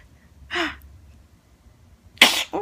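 A small child sneezes twice up close in a quiet room, a short breathy sneeze first and then a sharper, louder one about a second and a half later, followed by a brief sniff.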